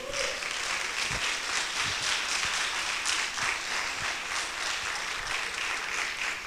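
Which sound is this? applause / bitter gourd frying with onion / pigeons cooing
applause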